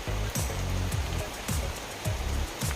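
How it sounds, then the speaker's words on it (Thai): Steady morning rain falls after a night-long downpour, a dense continuous hiss broken by regular low thumps, close and fairly loud. "ทุกคนตื่นเช้ามาก็เจอกับสายฝนโปรยปลายกันเลยเดียวฝนตกตลอดคืนเลยนะคะ"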